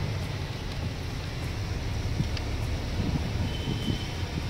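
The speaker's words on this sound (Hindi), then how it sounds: "यहाँ पर बहुत ही शीतल, बहुत ही ठंडी हवा चल रही है" A cool breeze blows beside Ramappa lake, a steady, loud rush of wind buffeting the microphone throughout with no pauses.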